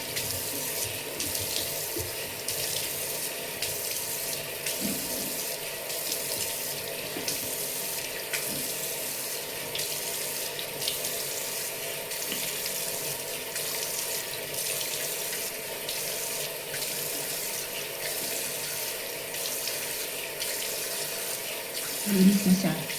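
Steady, continuous rush of water running from a sink tap while a face is rinsed, fairly close and unbroken throughout, with a brief low splash near the end.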